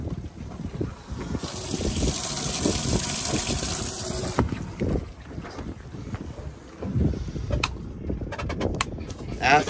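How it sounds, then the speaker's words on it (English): A Nautic Star 2200 Sport boat's live well pump fills the forward live well: a steady wash of pumping water and wind runs through, with a sustained hiss in the middle and some irregular knocks and thumps. "Forward live well, this pumps water into the live well."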